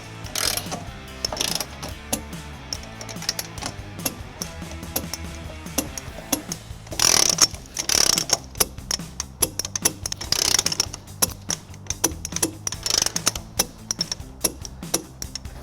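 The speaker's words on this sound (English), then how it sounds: "We're going to start with these three nuts using a 14mm socket." Ratchet wrench with a 14mm socket tightening trailer hitch nuts on a 2022 Toyota Sienna, giving bursts of rapid clicking pawl ratcheting, loud and close, with short pauses between strokes and no talk.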